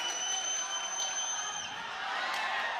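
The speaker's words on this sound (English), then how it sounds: "Crowd coming to life." A boxing arena crowd at the Casimero vs Nghitumbwa fight stirs into a faint, distant, steady roar of cheering, with no clear voice above it.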